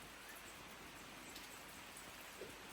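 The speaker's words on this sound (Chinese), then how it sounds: "其实这个雨水敲打树叶的声音是很响的。" Rain patters on tree leaves as a faint, steady wash of hiss with scattered drops, continuous and soft.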